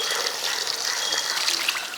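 Water splashes and trickles steadily as intestines are rinsed for a Kerala thattukada-style boti curry, close and continuous.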